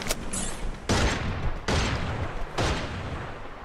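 Gunfire in the Free Fire battle royale game, three sharp loud bursts spaced roughly a second apart, each with a short noisy tail, close and alone without talk.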